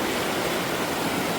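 A river rushes steadily along the North Kaibab trail in the Grand Canyon, a dense, even hiss of flowing water close by with no voices.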